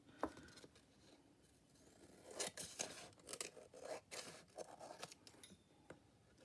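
Scissors snip repeatedly through paper in quick, crisp bursts, close up, with short pauses between cuts.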